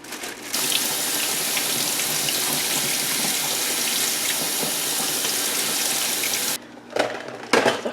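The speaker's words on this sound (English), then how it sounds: "I'll go ahead and wash these cherries." Cherries washed under a running kitchen tap: a loud, steady stream of water pours and splashes for several seconds, then cuts off, followed by a few wet handling sounds.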